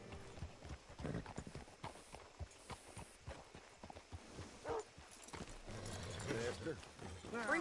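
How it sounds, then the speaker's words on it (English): Horse hooves clip-clop in Red Dead Redemption 2, a string of close, clear hoof knocks at a walking pace, with characters talking over them and a horse whinnying near the end. "Hitch your horse up here."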